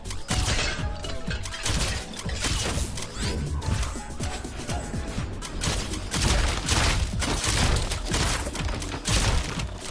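A glove blast smashes a target in the VR racing game Sprint Vector. A dense, loud barrage of crashing, shattering impacts runs continuously with no pauses.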